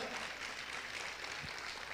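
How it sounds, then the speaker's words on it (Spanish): Congregational applause at a church sermon, a steady wash of many hands clapping at moderate distance, even and sustained throughout without a clear start or finish. "¿Cuántos pueden aplaudir fuerte al Señor?"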